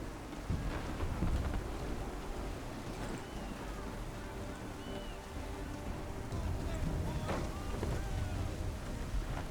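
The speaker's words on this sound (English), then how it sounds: "There's a storm coming, Captain." A thunderstorm with rain rolls over the sea in Assassin's Creed III, steady rain hiss under deep rumbling thunder and sharp cracks, loud and continuous, with faint game voices at times.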